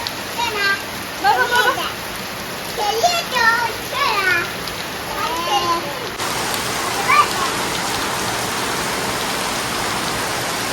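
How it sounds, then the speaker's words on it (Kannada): Dense, constant rain roar throughout, with a voice and other talk over it in the first half before the downpour continues alone. "ಎಷ್ಟು ಜೋರು ಮಳೆ ನೋಡಿ"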